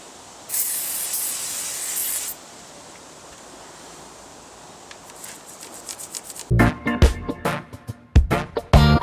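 Aerosol pre-treatment sprayed onto a bike chain's rear sprocket in a long close hiss, then a quieter pause, followed by rapid ticking and rattling of the freewheel and chain spinning louder toward the end.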